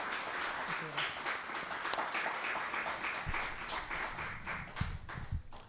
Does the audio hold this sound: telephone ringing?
no